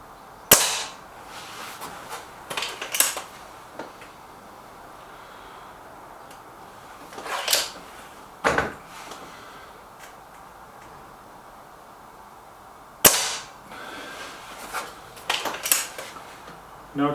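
A Crosman Silverfox Nitro Piston air rifle fires five shots, each a sharp, fairly quiet crack spaced a few seconds apart, with soft handling clicks between them and low background hiss.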